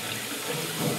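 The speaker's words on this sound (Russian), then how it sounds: "Вот так вот через носик наливаем" Water poured from a kettle through its spout, a steady close liquid pour lasting about a second with no talking.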